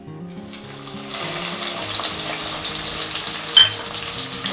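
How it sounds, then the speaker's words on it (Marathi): Green chillies fry in oil for crispy chivda. A dense sizzle bursts in after a brief quiet start and keeps bubbling steadily, with a soft melodic tune running underneath and one sharp pop near the end. "तर आता मिरच्यासुद्धा आपल्याला छान मस्त अशा तळून घ्यायच्या आहेत"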